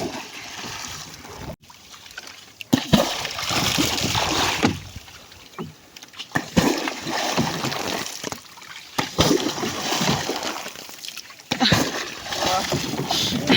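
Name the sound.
water splashing while people bathe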